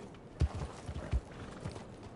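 Horse hooves clip-clop in an uneven gallop in Red Dead Redemption 2: a few heavy, muffled thuds, fairly faint, with no other sound.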